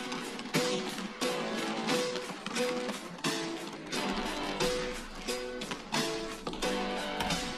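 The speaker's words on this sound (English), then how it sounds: "We have the guitar and most importantly, the basketballs." A High School Musical 3 remix verse loop plays, with drums, doubled guitar and the rhythmic thuds of bouncing basketballs repeating in a steady, loud pattern.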